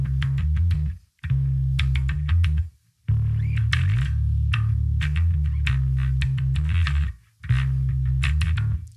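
Bass guitar riff mixing open-string notes with slides up the neck, played loud and alone as phrases of plucked notes, with brief pauses between them.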